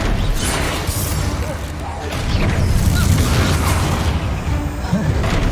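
The Confringo blasting spell cast in the Hogwarts Legacy video game, with dense rumbling booms and bursts layered over continuous combat noise and shouted voices.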